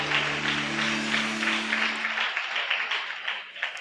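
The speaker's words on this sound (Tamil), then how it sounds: "கைத்தட்டி தேவனை மகிமைப்படுத்துங்க பார்க்கலாம்." A church congregation clapping their hands in praise during a Tamil morning service, a dense, steady wash of applause under a sustained tone that fades after two seconds.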